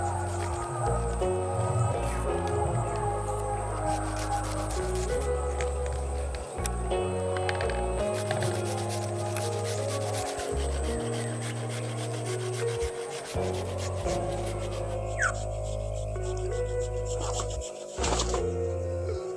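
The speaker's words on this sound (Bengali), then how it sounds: "এইভাবে করে আমি এখন পানি ফলটাকে গ্রেট করে নিচ্ছি" Peeled water chestnuts are grated by hand, giving a steady rhythmic rasping scrape, stroke after stroke, over continuous background music.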